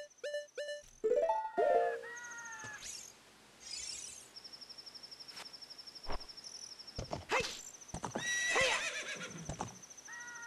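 A horse in the video game Zelda: Ocarina of Time, a loud whinny followed by clip-clopping hooves, mixed with chiming game sound effects and tones.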